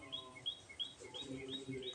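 A kite calls with repeated high, thin whistling cries in a steady rhythm, fairly clear outdoors near crows, while low background noise continues underneath.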